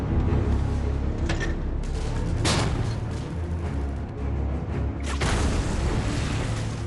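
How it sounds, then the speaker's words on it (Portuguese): A World War II Tiger tank firing explosive shells in a winter battle, heard as a dense, rumbling battle din with sharp booming cracks near the start, mid-way and again toward the end. "O tanque Tiger dispara seus projéteis explosivos contra os americanos 30 metros abaixo."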